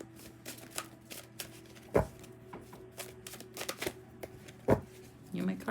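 A deck of soft, floppy tarot cards being shuffled during a reading, a series of quiet riffling flicks and sharper taps scattered unevenly, close by with a low room hum underneath.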